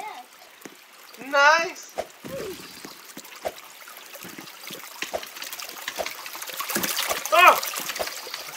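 A character swims through water in the Running Heads 2 video game, giving faint splashing and trickling under frequent speech, with brief chirping game effects.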